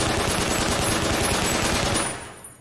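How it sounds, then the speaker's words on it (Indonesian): A Gatling gun in a film fires a long rapid continuous burst of shots, loud and close, then cuts off and leaves a brief fading tail. "Sempat terpojok, namun Chisato membalikan keadaan dengan menggunakan Gatling gun."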